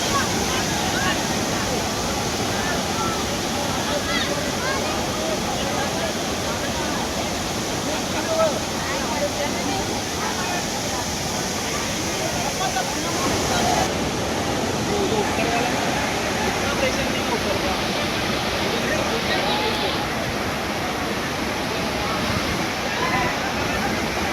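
Monsoon water pours over the overflowing Vihar Lake dam in a steady, loud, continuous rushing roar, with faint voices mixed in.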